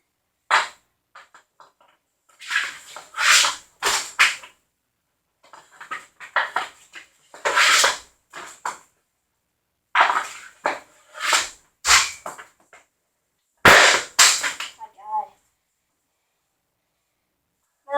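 Hockey pucks are shot at a net and ring off the crossbar: sharp, isolated cracks and clacks come in irregular bursts with quiet gaps between them, fairly close and crisp.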